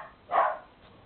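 A single short dog bark sounds at a moderate distance, brief and somewhat muffled, rising once and fading with no other barks following.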